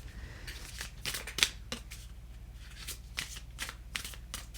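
Tarot cards shuffled repeatedly, a run of crisp riffling bursts with short pauses, close and fairly quiet, with no talking.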